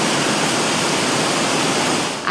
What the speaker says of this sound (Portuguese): ela, a Cachoeira Santa Helena.